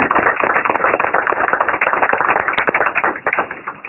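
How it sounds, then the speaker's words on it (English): A crowd at a GOP office opening applauds a U.S. senator, with dense, continuous clapping that stays loud and close for the whole stretch. "Give Senator Faircloth a applause."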